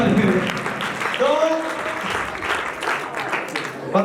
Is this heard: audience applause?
yes